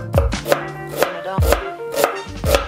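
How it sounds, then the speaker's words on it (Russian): Knife chopping an onion on a board, six sharp, evenly spaced strokes at a steady rhythm, close and clear with no talking. "Мы берем просто луковицу, вот так вот ее нарезаем."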